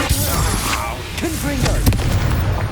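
Bombarda and Incendio spells going off in the video game Hogwarts Legacy, a dense run of booming blasts and bursts over a steady rumbling game soundscape, with a few sharper pops and a faint voice in the mix.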